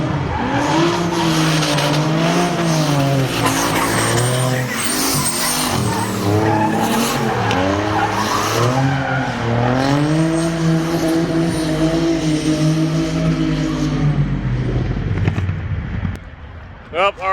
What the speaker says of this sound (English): drift footage for you.